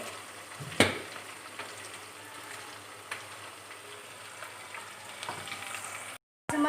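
Onions softening in a pan for shimla mirch aloo, a quiet steady sizzle with a few sharp clinks and scrapes of a spoon, heard alone.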